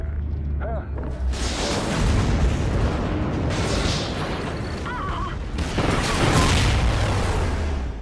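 Explosion in the Call of Duty: Ghosts campaign on Wii U, a sustained loud rumbling blast with debris-like crackle filling the whole stretch, rising again toward the end, with game radio chatter faintly underneath.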